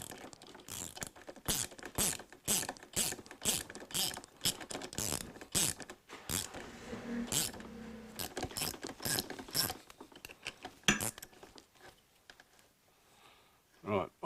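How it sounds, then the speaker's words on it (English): A chain breaker tool pushes a pin out of a Ducati 900SS motorcycle chain, giving a close series of quick ratcheting clicks and metallic creaks in an irregular rhythm, thinning out toward the end. "I can now screw that through by hand, so that pin is completely removed from said chain"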